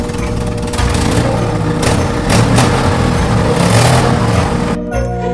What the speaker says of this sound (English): very soon they could hear his truck motoring towards them.